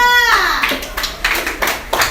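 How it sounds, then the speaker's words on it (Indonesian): Classroom group, likely students, clapping for a team called to the front, a few distinct rhythmic bursts of hand claps after a brief tonal sound at the start, fairly close and moderately loud. "Ayo, tepuk tangan untuk kelompok 2"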